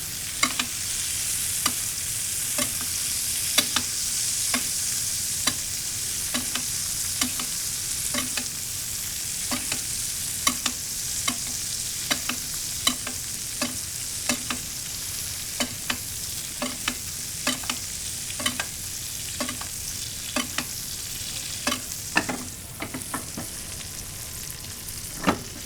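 Steak searing in a pan with butter and garlic gives a steady, bright sizzle that runs the whole time, broken by regular light clicks and taps from stirring or basting, with no talking.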